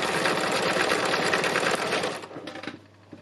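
A sewing machine stitching fabric for a textile landscape, a close, fast continuous whirring rattle that slows and stops near the end, followed by faint handling clicks.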